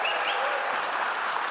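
Applause from a large audience at the Google Cloud GCP NEXT 2016 keynote: dense, even clapping that fills the hall, loud and continuous.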